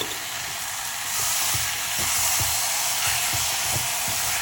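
Tomatoes sauté in a pan for Salem-style tomato sambar, giving a steady, close hiss that swells slightly after the first second, with soft, evenly spaced stirring knocks underneath and no talking.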